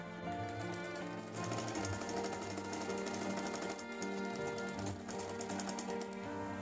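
A sewing machine joins lining fabric to the main fabric along the belt section of an umbrella skirt. The close, steady, rapid stitching rattle runs continuously throughout with no talk.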